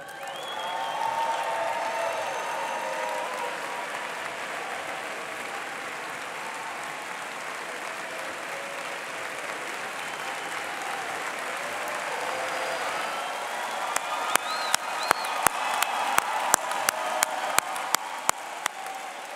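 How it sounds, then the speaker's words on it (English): A large crowd at the 2017 University of Notre Dame College of Arts and Letters commencement ceremony applauds the graduates with sustained, even clapping. Sharper individual claps stand out near the end. "one more round of applause for the newest alumni of the University of Notre Dame"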